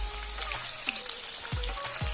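Egg fingers deep-fry in hot oil, giving a steady close sizzle broken by a few sharp pops and crackles.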